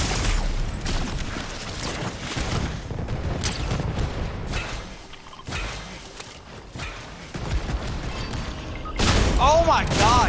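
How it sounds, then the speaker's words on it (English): A rocket launches in the video game Fortnite amid dense game noise and thumping impacts, with a sharp, loud burst near the end. "He's about to shoot a rocket"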